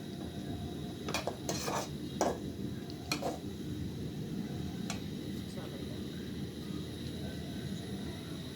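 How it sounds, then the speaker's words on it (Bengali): A utensil mixes egg with spices in a pan, giving a few sharp metallic clinks and scrapes against a low steady background rumble. "তারপর আমি ভালো করে মিক্স করে নেব, মশলা যাতে করে সব জায়গায় পৌঁছে।"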